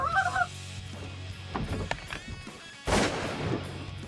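Two Canada geese flying in over a Nebraska hunting spread give a short burst of nasal honks near the start, followed by a sharp shotgun blast and rustling movement from the hunters.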